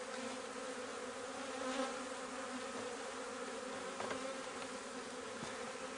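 Honey bees at an opened nuc hive hum in a continuous close drone, with a few individual bees buzzing louder as they pass, and no talk over it.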